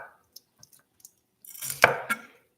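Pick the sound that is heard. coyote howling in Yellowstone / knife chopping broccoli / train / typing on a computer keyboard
knife chopping broccoli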